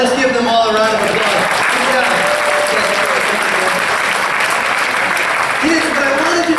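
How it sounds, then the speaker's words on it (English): A church congregation breaks into loud, sustained applause, dense clapping filling the room with voices murmuring and calling out beneath it. "let's give them all a round of applause"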